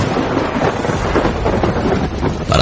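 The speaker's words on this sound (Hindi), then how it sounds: "ठीक उसी वक्त बारिश भी शुरू हुई" Steady, loud wash of rain with a low rumble underneath, dense and continuous throughout, like a heavy downpour with distant thunder.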